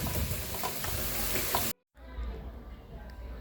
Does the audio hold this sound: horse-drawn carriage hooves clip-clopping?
no